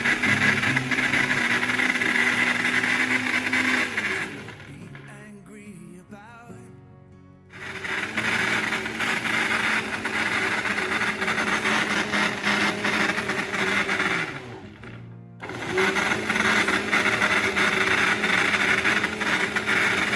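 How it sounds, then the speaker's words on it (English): A blender pulps ingredients with added chicken stock, a loud, steady grinding whir running almost throughout, cutting out briefly twice before restarting at full strength. "I like to add in some chicken stock to aid the blending process. So I'll just blend that into a pulp and set it aside"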